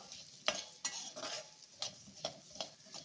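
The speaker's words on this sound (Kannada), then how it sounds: "ಇದು ಲೋ ಫ್ಲೇಮಲ್ಲೇ ಮಸಾಲೆ ಎಲ್ಲ ಫ್ರೈ ಮಾಡಬೇಕಾಗುತ್ತೆ" Spices and coriander seeds frying on a low flame for puliyogare gojju, stirred in a pan with a series of close scraping strokes over a soft, steady sizzle.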